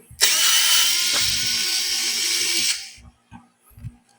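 A power screwdriver whirs steadily for about two and a half seconds while backing a screw out of a hybrid inverter's casing, then stops, leaving a few light clicks and handling noises.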